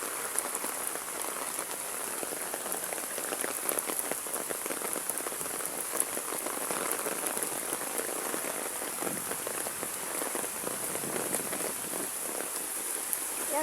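Steady heavy rainfall from Typhoon Carina pours onto surfaces in the Philippines, a dense continuous hiss of drops close by with no talking over it.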